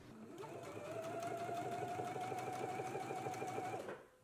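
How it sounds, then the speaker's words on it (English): A sewing machine stitching through all layers along the fly and front of a garment, a steady fast mechanical whir with rhythmic needle ticks running about four seconds before winding down, close with no talk. "I'm just gonna go to the sewing machine and I'm gonna stitch through all layers"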